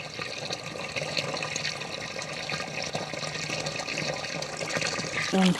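Water is stirred with a stick in a bucket of cow dung liquid fertilizer, a continuous sloshing and splashing that stays fairly even throughout, with a faint voice briefly in the background.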